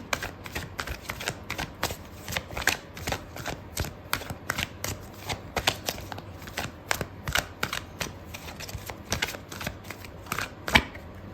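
Tarot cards are shuffled and laid out by hand, giving a rapid, irregular run of crisp card flicks and slaps, close and fairly loud, with no talking.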